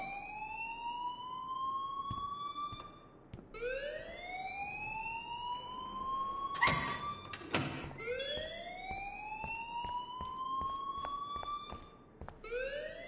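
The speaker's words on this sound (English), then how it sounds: "please turn off that alarm since that's your job" A wailing alarm siren in the video game Life is Strange, rising sweeps repeating every few seconds at moderate level, with a couple of sharp clatters partway through and no voices.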